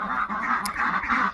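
Ducks quack continuously in a short, dense burst of overlapping nasal calls, fairly close and loud, with no voices over them.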